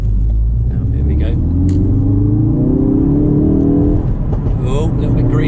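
Ford Focus RS accelerating from inside the cabin, a loud low engine rumble with rising tones as it pulls through the revs, steady and close throughout.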